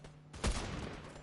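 Gunfire in the video game Fortnite during a Halloween night session: a sharp, loud burst that rings out briefly and then fades into a sustained noisy tail, with no talk over it.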